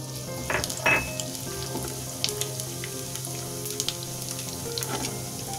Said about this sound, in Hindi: ये हमारा ऑयल गरम हो चुका है,